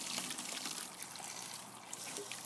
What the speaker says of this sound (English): So we're going to put the water into that now.